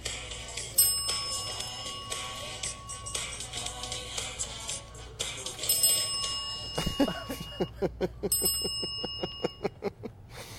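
A bright bell rung by a cat rings out in a quick run of evenly spaced dings, in time with a steady musical background, loud and close.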